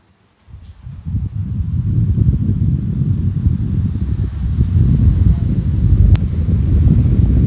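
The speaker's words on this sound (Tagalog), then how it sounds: "ito try natin sa electric fan kasi may electric fan ako dito sa gilid" Steady, rumbling wind buffeting a microphone, as from an electric fan blowing straight at it, starting abruptly and continuing loud and unbroken.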